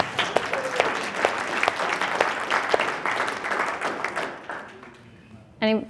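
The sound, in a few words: audience clapping for supportive spouses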